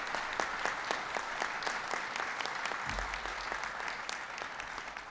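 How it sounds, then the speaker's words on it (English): Audience applause greeting economist Jason Furman at a White House economic announcement, a steady dense wash of clapping that continues at an even level throughout. "Give Jason a big round of applause."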